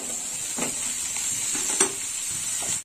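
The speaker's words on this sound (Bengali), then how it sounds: "এবার ঝিঙে দিয়েও একটু কষে নেবো।" Ridge gourd stir-fried in a wok-style pan, a steady bright sizzle with a few scraping stirs of the spatula, close and continuous, no voices.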